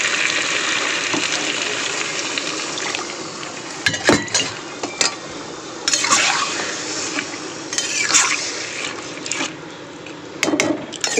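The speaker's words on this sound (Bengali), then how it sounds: "এবার দিয়ে দেবো জল।" Water poured into a pan of Bengali fish curry, with clinks of a utensil against the pan and bursts of splashing and bubbling over a steady background hiss.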